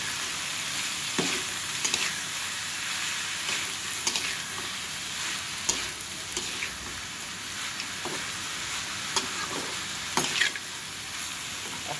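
Potatoes and bitter gourd frying with turmeric and salt in oil, an even, steady sizzle like light rain with occasional soft stirring scrapes and clicks, close and continuous, no voices.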